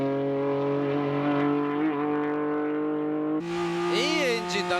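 A tuned non-turbo engine built from an R32 GTS motor, revving steadily, then climbing sharply with rising and falling pitch sweeps near the end, loud and close.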